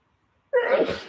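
A single loud, close sneeze bursts out after a moment of silence, then trails off.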